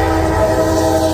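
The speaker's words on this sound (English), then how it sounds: "this is a CSX. It's going to be a shorter train. Looks like single locomotive in the front and mixed freight" A CSX mixed freight train led by a single locomotive passes close by, a loud sustained rumble with strong steady tonal hum and rail noise throughout.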